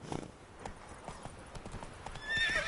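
Hooves of the video game horse Roach clip-clop in a steady galloping rhythm, fairly faint, ending in a brief whinny-like squeal.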